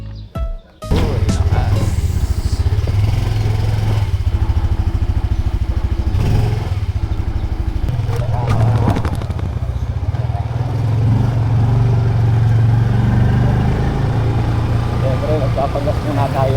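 A Yamaha PG-1 motorcycle being ridden, its engine a steady close droning rumble with rising and falling revs and some wind and clatter throughout, and no talk heard.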